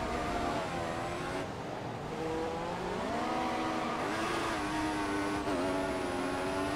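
F1 race car engine from the F1 2014 game at the Malaysian Grand Prix in Sepang, a loud continuous high-pitched whine that drops on gear changes and climbs again, with a brief dip near two seconds.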